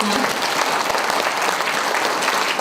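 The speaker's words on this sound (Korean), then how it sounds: "장군만 회장님께 여러분 큰 박수 부탁드리겠습니다" Audience at a chairman's invited lecture breaking into loud, dense applause, a continuous wash of many clapping hands filling the room.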